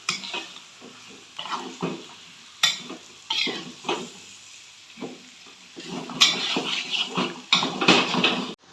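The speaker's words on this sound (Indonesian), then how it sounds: "Kita aduk-aduk sama dagingnya nih." Beef pieces fry in a pan for rendang while being stirred, with irregular scraping and clattering strokes of a utensil rising over a constant sizzle, up close.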